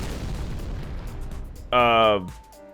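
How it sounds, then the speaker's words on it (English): Explosion effect in Garry's Mod, a single loud burst with a harsh tonal roar that lasts under a second, following a stretch of low rumbling noise and fading into a thin lingering tone. "We're gonna see if the residual explosion effect can be reversed with time reversal."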